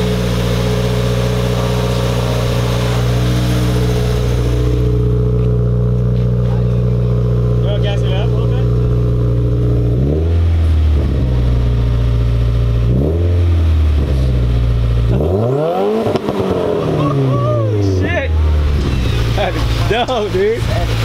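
A Subaru WRX with a new downpipe idles with a deep, steady drone, then revs hard three times with rising and falling roars, loud and close, as voices speak briefly.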